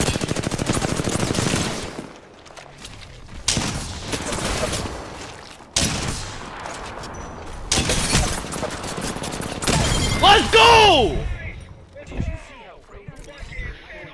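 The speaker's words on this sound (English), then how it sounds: "Here we see a very professional game of Kraber jousting taking place in the firing range." Kraber sniper rifles fire in the Apex Legends firing range, several heavy booming shots separated by pauses, with voices talking around them.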